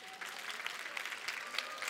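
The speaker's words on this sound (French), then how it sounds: "vous pouvez vous applaudir quand même" A crowd of high-school students and guests applauds at a literary prize event during the Paris book festival; the clapping is faint and distant, a soft, continuous patter.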